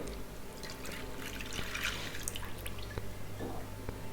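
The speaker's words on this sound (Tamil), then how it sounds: "கொழுக்கட்டைக்கு ஒரு பேனில் வந்து முதல்ல 1 கப் அளவுக்கு பால் சேர்த்துக்கோங்க" A cup of ordinary cow's milk is poured into a pan, a soft, quiet trickle and drip close by, continuous over a low background hum.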